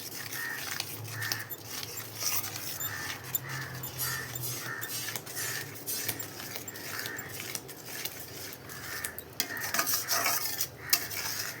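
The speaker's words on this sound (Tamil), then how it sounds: "முட்டை பொரியலுக்கு எப்படி கிண்டுவோமோ அந்த கிண்டிக்கணும்" Steady scraping and clinking of a spoon stirring egg rice in a metal pan, stirred the way scrambled eggs are, with repeated rhythmic strokes close up and no talking.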